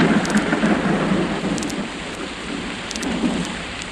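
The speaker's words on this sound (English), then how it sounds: "But the rain is pouring down now." Heavy rain pours down steadily on leaves outdoors, a dense continuous hiss and patter that stays close and fairly loud throughout, with faint rumbling underneath and no voices.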